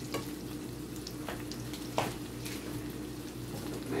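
Onions fry in leftover burger grease in a pan with a constant close sizzle, broken by a few soft stirring scrapes and one sharper clack midway.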